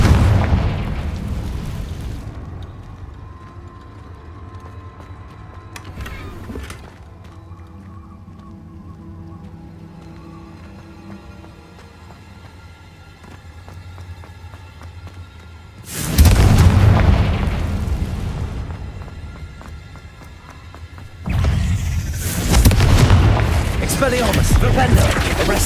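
Explosions from the Confringo blasting spell in the Hogwarts Legacy video game: two heavy booming bursts, each rolling on for several seconds. Lighter game sounds fill the quieter stretch between them.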